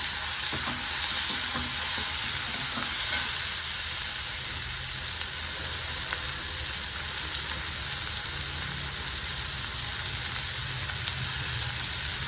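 Garlic cloves sizzle in hot oil in a pan for thattu dosa masala, a loud, continuous, even frying hiss that runs steadily throughout with no voices.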